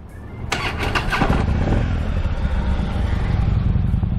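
A 2015 Harley-Davidson CVO Street Glide motorcycle cranks and fires up, its V-twin catching quickly and settling into a loud, steady, rumbling idle close by, with no talk over it.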